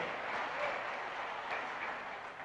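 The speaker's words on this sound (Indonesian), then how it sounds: "Tepuk tangan untuk beliau." At a Partai Ummat national working meeting, the audience applauds Amien Rais with a steady wash of clapping from many hands that holds briefly and eases slightly toward the end.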